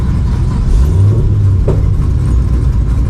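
A Camaro with its X-pipe blown off runs on open headers, a loud, deep, rough exhaust rumble holding steady throughout, close to the microphone.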